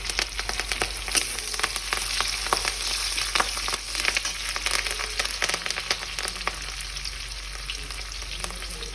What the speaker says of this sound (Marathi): आपण त्यामध्ये आपण आता हा कढीपत्ता टाकून घेऊया